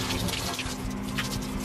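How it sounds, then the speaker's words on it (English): Hot water runs steadily from a tap to rinse a bathtub, a continuous, fairly loud rushing splash close by with no talk. "Now I'm gonna turn on the hot water and just rinse everything away."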